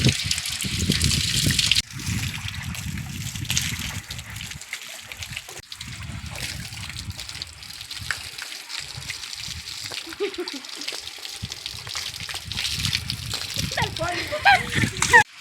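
A hose sprays and splashes water across a solar panel, with trickling and sloshing running under talk that continues through most of the clip.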